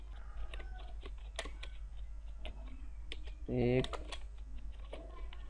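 Typing on a computer keyboard during an Urdu InPage software lesson, with scattered key clicks and a short burst of rapid taps near the middle, heard under a man's speech.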